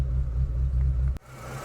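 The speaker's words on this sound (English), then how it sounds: "So here we have the famous F4R engine." A Renault Clio 172 with the F4R engine idles with a low, steady, slightly uneven rumble, heard close up, then cut off abruptly near the end, with quieter engine sound after.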